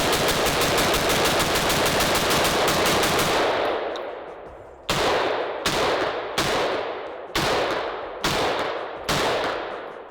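Colt M16 rifle firing full auto, a fast continuous burst of shots for about four seconds, then a series of separate sharp bursts with ringing decay, loud and close, no voices.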